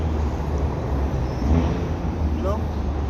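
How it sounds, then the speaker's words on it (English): A loud car with an obnoxious engine note rumbles steadily nearby as low traffic noise, with a person talking over it throughout. "This car is so obnoxious."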